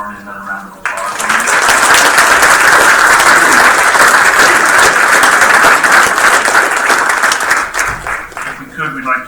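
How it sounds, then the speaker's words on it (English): An audience at a school board meeting breaks into loud, sustained applause that swells, holds steady for several seconds and then tapers off. "Let's give Marty another round of applause."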